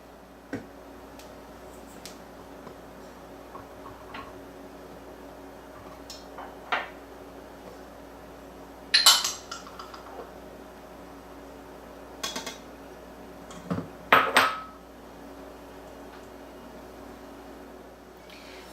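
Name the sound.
dry cake ingredients being mixed together in a mixing bowl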